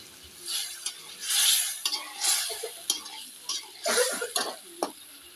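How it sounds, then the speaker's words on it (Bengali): Hilsa fish pieces being fried and stirred with spices in a pan, with intermittent scraping and stirring bursts over a soft sizzle and occasional utensil clinks, close by, no talking. "ইলিশ মাছগুলো এখন আমি একটু মশলার সাথে কষাই নেব"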